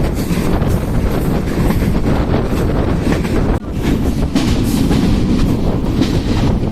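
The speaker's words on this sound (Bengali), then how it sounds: "এই মুহূর্তে আমরা একটি বাঁক অতিক্রম করছি, আর আস্তে আস্তে ট্রেনের গতিও বাড়তে চলেছে।" The Benapole Express passenger train runs through a curve and gains speed, heard from on board as a loud, continuous rumbling roar with heavy wind buffeting, briefly dipping midway before resuming just as strong.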